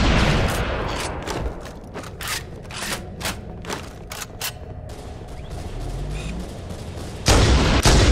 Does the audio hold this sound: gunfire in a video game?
yes